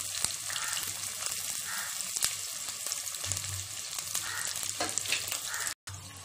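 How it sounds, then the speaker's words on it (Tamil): Sliced onions frying with fennel seeds for mutton biryani, a steady close sizzle with occasional stirring scrapes, cutting out briefly near the end. "சோம்பு பொரிஞ்சதும் பெரிய வெங்காயம் ஒன்று கட் பண்ணி வச்சுருக்கேன், அதையும் இது கூட சேர்த்துடலாம்."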